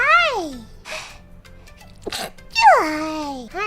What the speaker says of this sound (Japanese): はい、くしゃみ出ました。